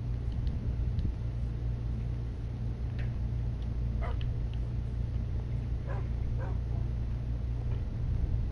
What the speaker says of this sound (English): My doggy followed.